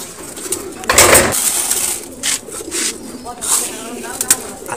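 Pigeons at a feeding tray coo softly nearby, with a burst of flapping wings and scattered rustles, while a person talks over them.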